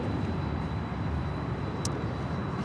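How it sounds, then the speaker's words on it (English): A JetBlue Airbus A321 airliner takes off from LAX bound for JFK, its engines a steady, loud broadband roar that holds constant throughout, with no voices. "This is JetBlue 424 taking off to JFK on the A321."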